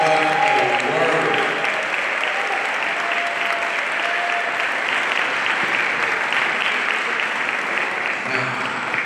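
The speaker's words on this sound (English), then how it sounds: "That's a clap right there." A large audience at an MLK commemorative breakfast breaks into sustained applause that fills the room steadily, with a voice briefly heard underneath at the start.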